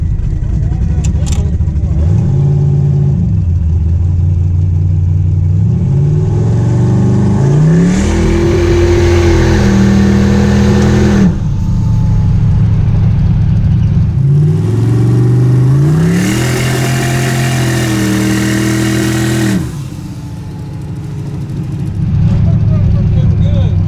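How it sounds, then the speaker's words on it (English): A twin-turbo tunnel-ram Chevy Nova engine runs loud and close, revving up and down in repeated surges, slightly rough and breaking up at the carburetor, while people talk over it. "Probably missing the carburetor a little bit. It's just kind of breaking up."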